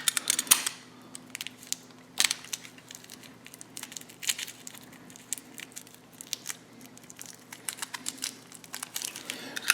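Tape and plastic packaging peeled and crinkled off parts for a Nissan GT-R scale model build, close crackling and tearing with sharp bursts and rustles scattered throughout, no speech.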